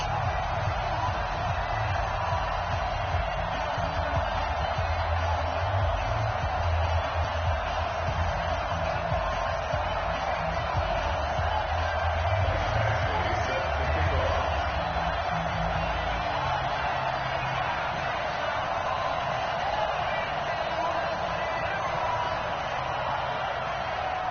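A home stadium crowd in an NFL football video game set in South Florida, a steady broad roar of cheering that holds at an even level throughout, with no clear peaks.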